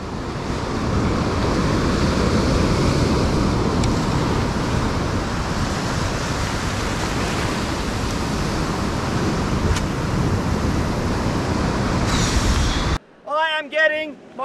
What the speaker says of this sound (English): I'm getting flogged by waves.